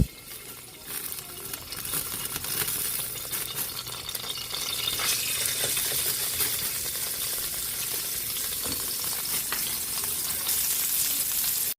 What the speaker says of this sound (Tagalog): Lagyan na natin ng mantika. Lagyan na rin natin yung garlic, bawang.